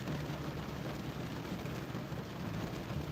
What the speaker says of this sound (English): I know with the sound of the rain